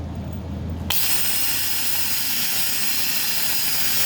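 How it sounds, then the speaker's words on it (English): Power drill spinning up to clean inside a half inch part, starting suddenly after a low background hum, then whirring loud and steady to the end. "so let's use our drill."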